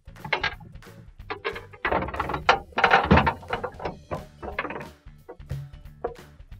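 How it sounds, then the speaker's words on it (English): A plastic shelf support is lifted and pulled out of a Maytag refrigerator pantry, giving a run of close, sharp clicks, knocks and scraping rattles in uneven bursts with brief pauses between them. "Now I can pick up this shelf support and take it out."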